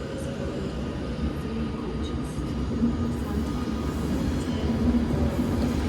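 An Avanti West Coast Pendolino train departing a station rumbles steadily nearby, a low continuous drone with faint rattling, no voices.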